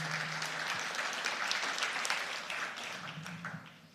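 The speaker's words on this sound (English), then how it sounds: "Let us give them a tremendous applause for being here with" A book launch audience gives a steady round of applause at an anniversary event. Dense clapping fills the room evenly, then fades slightly toward the end.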